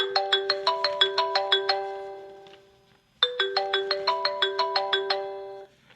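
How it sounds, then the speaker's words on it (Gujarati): A phone ringtone plays a bright, repeating melodic pattern, pausing briefly before the sequence starts again, clear and moderately loud with no speech. "શારદા દીકરાને ફોન કરે છે"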